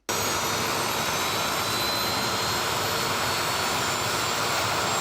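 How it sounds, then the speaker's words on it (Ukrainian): A military aircraft engine running with an armored cockpit, a loud steady jet-like roar and high whine that holds constant for five seconds, close by and alone with no voices. "Запускають двигун."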